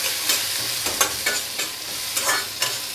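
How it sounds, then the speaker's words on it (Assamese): Jackfruit seeds and pumpkin leaves, seasoned with salt and turmeric, are stirred in a frying pan, giving a steady close sizzle broken by soft scraping stir strokes. "লৰাই দিছোঁ।"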